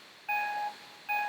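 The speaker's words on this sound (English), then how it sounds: "It'll just beep." Two short electronic beeps from a Mac's Photo Booth camera countdown, clean tonal chirps spaced about a second apart, close and clear against a quiet room with no talking.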